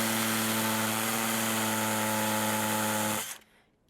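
A power drill whines at steady speed for about three seconds, loud and close, then spins down and stops.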